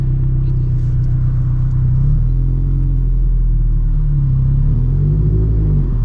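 A turbocharged 2013 Scion FR-S on the move, its engine a loud, steady low rumble from inside the car that rises slightly in pitch and swells as the driver picks up speed, with no one talking.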